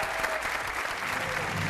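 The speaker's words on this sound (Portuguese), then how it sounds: "este aplauso é merecidíssimo para ti" A studio audience applauds during a televised Portuguese game show, steady dense clapping filling the whole moment at a moderate, even level with no pauses.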